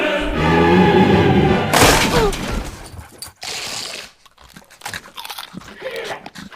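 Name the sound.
dog crunching a Dorito chip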